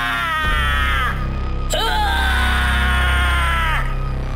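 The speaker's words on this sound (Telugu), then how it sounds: "పాట ఆఫ్ చేయడం వల్ల ముంజియా చాలా గట్టిగా అరుస్తుంది." A horror-story creature lets out loud, sustained, wailing screams in two long bursts separated by a sharp break, harsh and piercing over a low rumbling backdrop.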